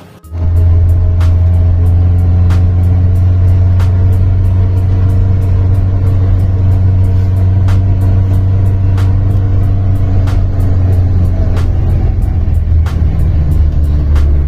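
A Daihatsu Feroza SUV engine idles with a deep, steady exhaust rumble, loud and close, holding evenly before the pitch shifts slightly near the end.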